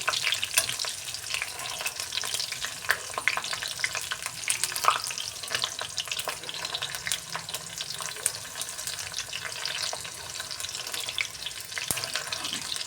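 Green chilies sizzle steadily in hot oil in a pan while finishing chicken 65, a faint, constant crackle with occasional stirring scrapes, close and without talk.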